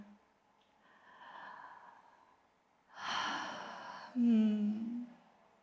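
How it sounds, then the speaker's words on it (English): Deep breathing in a guided womb-connection meditation: a quiet drawn-in breath, then a long audible exhale and a voiced, sighing release, close and calm. "start taking a deep breath together."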